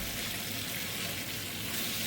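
Eggs with tomatoes and spring onion sizzle steadily in a pan while being stirred, a dense, even frying hiss close up with no speech.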